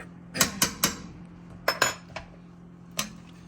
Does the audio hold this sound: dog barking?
no